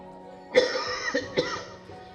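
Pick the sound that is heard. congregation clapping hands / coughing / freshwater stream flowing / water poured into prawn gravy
coughing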